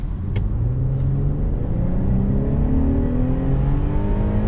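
A turbocharged Infiniti G35 accelerates hard toward highway speed, its loud engine drone rising steadily in pitch through the gear, with a continuous road rumble and whir from inside the car.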